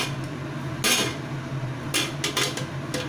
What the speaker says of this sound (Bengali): ঢাকনা দিয়ে আমি ফুটতে দিচ্ছি